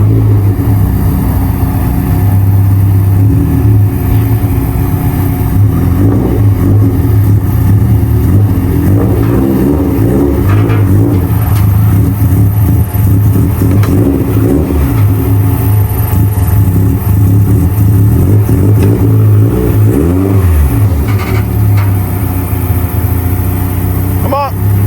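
A built-motor Subaru STI with a Blouch turbo and Link ECU, engine droning loud and steady through a pull, rising and falling rpm bands for about twenty-five seconds, with voices talking over it.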